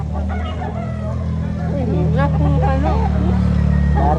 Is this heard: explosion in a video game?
no